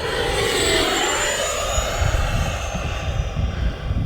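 A radio-controlled jet aircraft with a jet engine makes a close flyby, giving a loud, steady, broadband roar throughout with a high whine. There is no talk.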